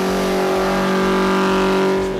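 A Ford XW Falcon with a 347 Windsor V8 holds a loud, steady high rev close by, a harsh continuous engine drone that dips slightly at the end.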